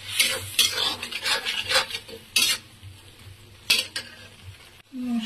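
Chopped tomato goes into a frying masala of coriander powder and spices for a jackfruit and potato curry. Loud scraping stirs and sizzling bursts come in uneven strokes close by, with a clink of the pan near the end.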